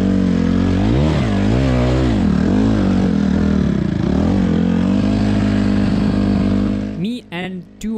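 A dirt bike engine, a Honda CRF150R or KTM 125, revs up and down continuously while riding a backyard enduro track, loud and close, with brief voices near the end.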